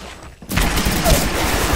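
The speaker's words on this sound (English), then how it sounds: "Dr. Sific Jacob, why are you shooting a death box?" Gunfire erupts in a battle royale video game: a sudden loud burst of rapid shots that starts after a short quiet moment and continues steadily to the end.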